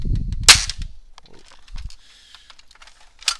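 An Orange Mod Works Longshot SG hybrid blaster fires a single stock dart, a sharp loud crack followed by faint mechanical clicks and a brief rattle near the end.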